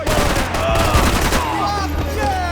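Gunfire in the Max Payne 3 video game set in a morgue, a dense fusillade of overlapping shots and bursts running continuously at close range with a loud, steady intensity throughout.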